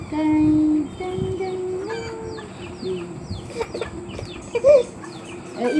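Chickens clucking and calling on a farm, several short clucks and a longer call close by, with quieter bird chirps around them.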